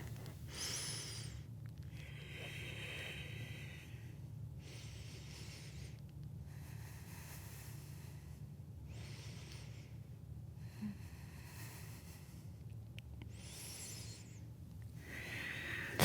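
Slow, deep breaths held during a yoga pose, with long airy inhales and exhales repeating every few seconds, close and fairly quiet over a low steady hum.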